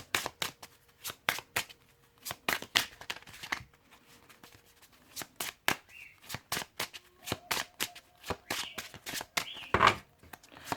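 Reiki oracle cards shuffled by hand, a rapid series of crisp riffling bursts repeating in steady bunches throughout, close and moderately loud, with no talking.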